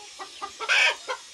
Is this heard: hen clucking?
yes